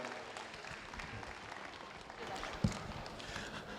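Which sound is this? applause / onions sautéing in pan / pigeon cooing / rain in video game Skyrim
applause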